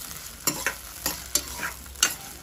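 Tomatoes and capsicum sauté in a hot pan, with a steady low sizzle broken by several sharp scraping stirs of a spoon across the pan, close up and with no voices.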